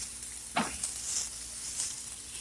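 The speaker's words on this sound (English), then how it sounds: "My sausage, I gotta flip them." Sausages sizzling in a frying pan as they are flipped, a soft steady crackle with a sharp clatter near the start and faint pops scattered after, no voices.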